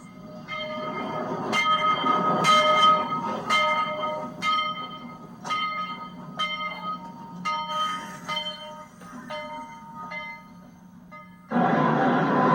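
A vintage 4-4-0 steam locomotive runs on a tourist excursion line, with a steady rumble of moving cars and repeated clear bell strikes ringing out over it, ending in a louder rush of noise.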